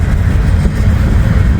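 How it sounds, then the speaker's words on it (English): A long Norfolk Southern freight train of gondolas rolls past close by, a loud, steady low rumble and rattle with no break. "Man, it's a big train."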